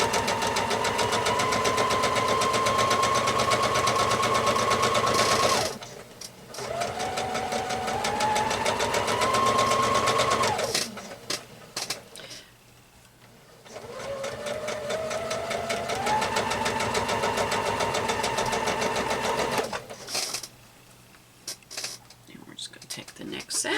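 A sewing machine stitches with white thread in bursts, its rapid mechanical whirring and humming motor stopping and restarting several times, with a person talking between runs.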